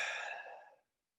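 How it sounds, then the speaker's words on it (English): A deep, drawn-out exhalation, breathy and close, fading out after under a second, followed by silence. "You just breathe in and breathe out."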